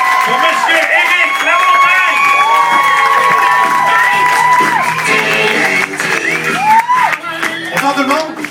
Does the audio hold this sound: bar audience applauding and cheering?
yes